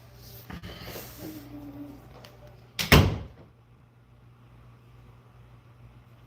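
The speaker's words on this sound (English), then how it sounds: "Close the door." A door bangs shut with a single sharp thud in a quiet indoor room, preceded by faint shuffling and a soft creak.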